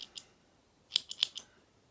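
Small knitting scissors, a CoopKnits pair, snipping and clicking in a quiet room: one or two light clicks, then a cluster of four sharp metallic snips close to the microphone, with no talking.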